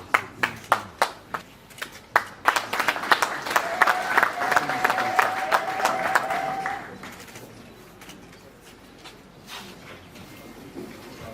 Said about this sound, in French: On peut acclamer pour ce geste symbolique de remise d'armes.